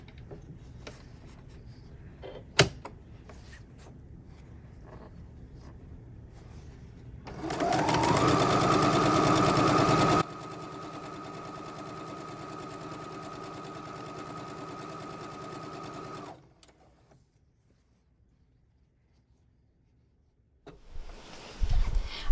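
A sewing machine stitches jelly roll quilt strips together in a steady close run of about nine seconds, first louder and then at a lower hum, followed by quiet and some handling noise.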